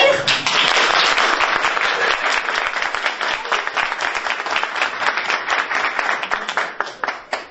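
At a reading-prize ceremony, an audience applauds the first team as it receives a cup, loud dense clapping at the start that gradually thins into scattered, separate claps.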